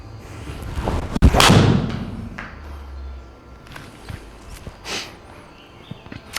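A golf club strikes a ball into a SkyTrak launch monitor setup with one sharp, loud impact early on, followed by faint thuds and shuffling movement.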